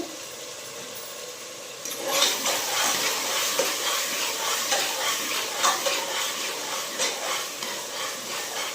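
Food sizzles steadily in a hot pan while being stirred for a tomato bath, a dense continuous hiss with scraping stirs and small pops throughout, starting after a quieter opening.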